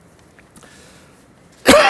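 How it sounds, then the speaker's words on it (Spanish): A single sharp, loud cough from a speaker at the podium of an international conference against female genital mutilation, bursting out abruptly after near silence. "ven que las dificultades con la tos me lo impide"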